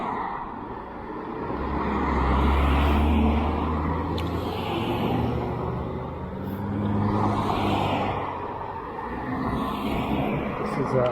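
Busy Main Street traffic on a Mother's Day morning, with cars swelling past in broad waves of tire and engine rumble, heard close by and continuous under occasional talking.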